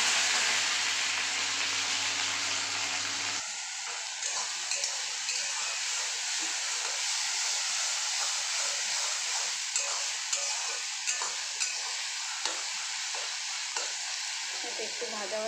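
Onion paste with ginger and garlic drops into hot oil already sizzling with cumin seeds, and a loud burst of hot oil gives way to a lower, steady frying hiss broken by intermittent scraping and stirring.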